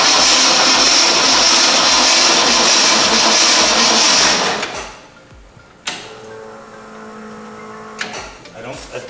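The 390 engine of a 1975 Ford F100 Police Interceptor runs loud and steady for several seconds, then cuts out. Quieter clunks and a voice follow.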